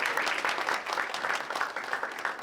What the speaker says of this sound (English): Let's give all of our scholars, our presidential scholars, and our Fannie Jackson Coppin scholars a round of applause.